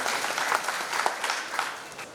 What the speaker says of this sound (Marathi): यासाठी जोरदार टाळ्या झाला पाहिजे.